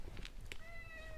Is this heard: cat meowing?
yes